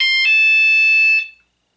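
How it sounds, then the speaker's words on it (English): A motion-activated auto dialer switched to chime mode gives a loud electronic tonal chime, a steady multi-tone beep that holds for about a second, then cuts off and fades into silence. "So I'm going to move it up to chime."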